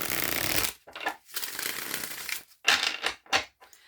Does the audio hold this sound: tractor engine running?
no